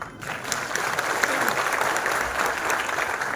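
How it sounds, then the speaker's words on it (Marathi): A large audience claps steadily at a civic felicitation ceremony in Ulwe honouring a veteran actor, a dense, even wash of applause lasting the whole stretch, fairly loud with no voices on top. "तुमच्या टाळ्या वाजल्या ना"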